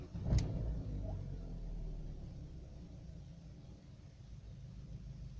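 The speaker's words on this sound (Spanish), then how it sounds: "voy a encender el motor para que veáis qué ruido tan horrible hace la cadena." A car engine with a timing chain idles steadily, giving a low continuous rumble with a brief sharper knock near the start and no voices.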